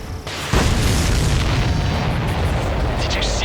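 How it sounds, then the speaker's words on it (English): Explosion in the Ace Combat flight game during a chase of supply ships: a sudden loud boom at about half a second, followed by a sustained roaring rumble under game audio and voices. "Did you see that explosion?"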